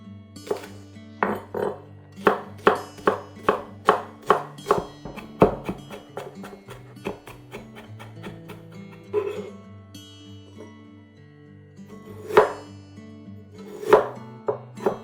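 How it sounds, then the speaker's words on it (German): Spring onion being finely chopped with a knife on a board for a salad dressing, a fast run of sharp, evenly spaced chops up close that slows into scattered, irregular cuts with no talk over it. "Für das Dressing hacken wir eine Lauchzwiebel ganz fein."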